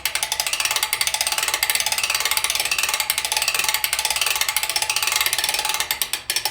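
A ratcheting bow press is cranked to draw back a compound bow, giving a steady, close, rapid ratchet-and-pawl clicking that runs continuously without voices.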